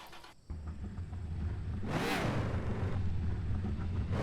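In the video game Car For Sale Simulator, a car engine hums steadily, then swells as a vehicle whooshes past midway before settling back into a low, continuous rumble.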